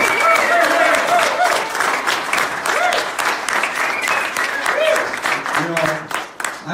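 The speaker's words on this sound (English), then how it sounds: "give me a round of applause" A crowd at a memorial gathering for Dennis Hof claps loudly and steadily for several seconds, with voices and cheers mixed into the applause before it starts to taper off.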